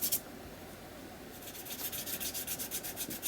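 Soft, even rubbing of ink onto a paper page, a steady close scratchy texture with a gentle rhythmic back-and-forth pulse in the second half.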